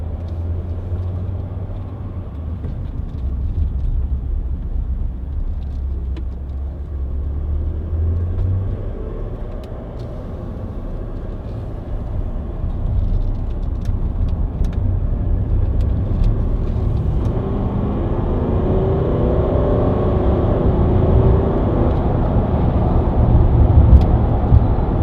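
A 300-horsepower Range Rover 4.4 TD V8 Westminster 4x4 diesel engine rumbles from inside the cabin, a deep steady drone that builds gradually in loudness and pitch as the vehicle accelerates, with no talk.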